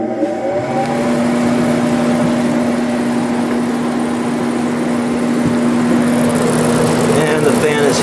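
A Sharp window air conditioner starts up and its fan motor runs with a loud, close, steady whirring hum and a constant low tone throughout.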